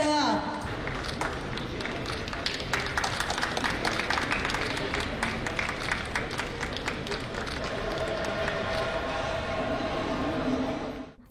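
A crowd claps loudly and steadily at the inauguration of the Big Brands Expo 2025 held by BNI Mangalore and Udupi, sustained dense applause that fades out at the end, with a voice speaking over it.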